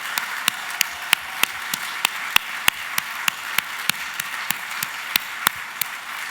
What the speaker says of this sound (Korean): 우리 한번 박수로 격려해 주시고